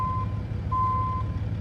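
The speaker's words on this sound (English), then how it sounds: "since when do heavy vehicles have to have a beeping while driving" Truck reversing beeper in American Truck Simulator: two long steady electronic tones, the second longer, over a constant low engine rumble.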